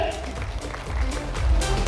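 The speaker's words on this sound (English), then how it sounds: "Round of applause for them." An audience at a regional quiz competition applauds a university team with a short, even round of clapping that fills the hall at moderate volume.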